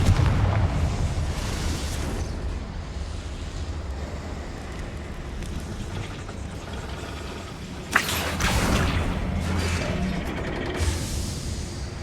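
In Hogwarts Legacy, a Confringo fire spell bursts with one sharp explosion that flares into a rumbling, roaring blast amid a steady windy background drone.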